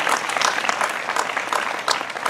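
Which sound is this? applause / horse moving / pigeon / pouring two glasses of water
applause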